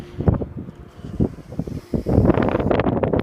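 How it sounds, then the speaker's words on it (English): Strong wind gusting during a tornado warning in Kansas, rumbling and buffeting the microphone in uneven bursts that build toward a steady roar at the end. "This wind is definitely powerful."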